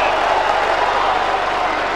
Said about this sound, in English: crowd in full voice here at Subiaco